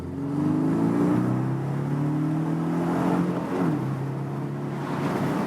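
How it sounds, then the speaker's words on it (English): A Porsche 718 Boxster S accelerating, its engine note rising steadily through a gear, a brief dip at a shift, then pulling again, heard from inside the car with road noise beneath. "when you push the throttle there and get this acceleration"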